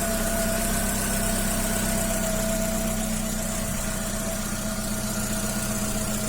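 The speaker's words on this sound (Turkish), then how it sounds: "Arabanın ısınmasını ve fanın açmasını bekleyeceğim." A 1.4 car engine idles steadily while warming up after an oxygen sensor replacement, a constant close hum with a faint whine and slight vibration throughout, no talking.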